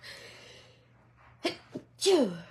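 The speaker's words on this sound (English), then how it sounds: "just a second, I'm going to sneeze." A single sharp sneeze bursts out after a couple of quick inhales, fairly close and loud, with no talking.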